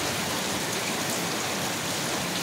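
Heavy rain pours down in a steady, dense hiss with no breaks and no voices.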